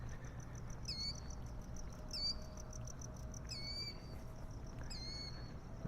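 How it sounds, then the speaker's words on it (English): Birds calling at night, likely outdoors: four short chirping calls repeat at regular intervals of about a second and a half, clear and fairly close, over a low steady background hum. "The sounds of different species of birds that normally would not be out"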